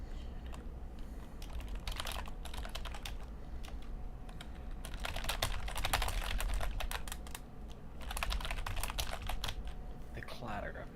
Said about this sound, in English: The clatter of the keyboard.